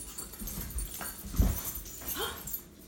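A dog lets out a few soft yelps and whimpers against a muffled indoor background, with one sharper cry in the middle.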